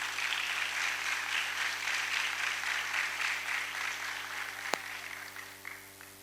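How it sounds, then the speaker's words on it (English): At a school investiture ceremony, a crowd claps steadily for a newly named house leader, a moderate, slightly distant wash of applause over a low hum, with one sharp click near the end. "Let us give her a big round of applause."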